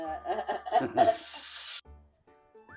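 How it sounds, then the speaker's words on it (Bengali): Koi fish frying in hot oil gives a loud, hissing sizzle that flares for under a second amid kitchen clatter, then cuts off abruptly, leaving faint scattered clinks. "মাছ ভাজা"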